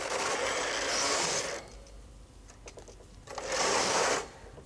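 Carriage of a Brother Electroknit KH 950i knitting machine swept across the needle bed twice, each pass a loud sustained whirring rasp lasting about a second and a half, with a quieter clicking pause between them and no talk.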